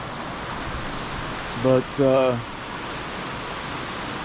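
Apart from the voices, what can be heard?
rain falling outdoors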